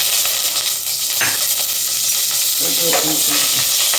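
Curry leaves drop into hot oil for a tempering with mustard seeds, fenugreek and cumin, giving a loud, steady sizzle and hiss with a few crackles and faint stirring, close up.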